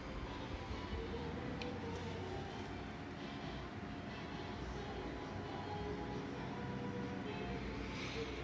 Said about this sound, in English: our train's gonna work our way around here